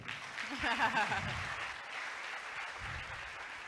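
A gathered congregation at a Christian ministry meeting in Pakistan applauds, a steady, fairly distant wash of clapping, with a voice speaking over it near the start.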